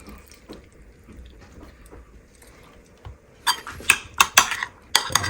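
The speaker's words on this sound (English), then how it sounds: "Mix it all. And that's my tartar sauce." A spoon stirs tartar sauce of mustard and lemon juice in a bowl, giving soft scraping at first and then a run of sharp, close clinks and knocks against the dish.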